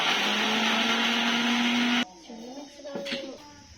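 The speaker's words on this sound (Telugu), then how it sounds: "ఎల్లిపాయలు అల్లము మిక్స్ పట్టేసుకున్నాము" A mixer grinder whirs loudly while grinding garlic and ginger, a close, high, steady motor whine that cuts off abruptly after about two seconds, followed by quiet handling noises and a voice.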